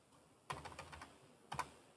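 Buttons on a calculator are pressed while a math problem is entered, a quick run of soft clicks followed by a short pause and two more taps, close and quiet.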